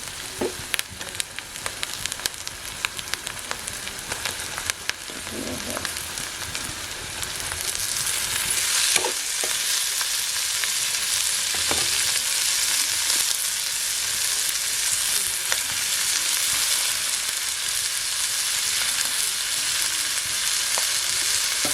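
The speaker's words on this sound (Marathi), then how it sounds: "परतून घेतले मसाले वगैरे आता आपले कोके घालून घेऊया" Snails (koke) stir-fried in masala over a wood-fired village stove: a steady, fairly loud sizzle that builds and then holds, broken by occasional scrapes and knocks of stirring, with no voices.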